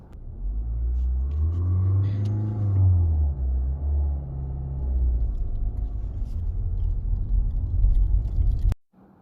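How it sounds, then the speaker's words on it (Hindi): A Ford EcoSport diesel labours uphill in first gear on a mountain road in the Spiti Valley, a loud low rumbling drone that wavers under strain before the engine abruptly cuts out and goes quiet. "वहाँ पे मेरी गाड़ी फर्स्ट गियर में भी नहीं चढ़ पाई और बंद हो गई थी"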